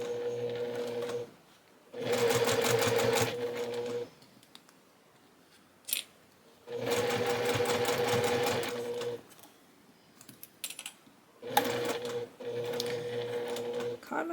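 A sewing machine stitches the finishing of a cross stitch piece in three steady, whirring bursts of a few seconds each, separated by quiet pauses with small handling noises.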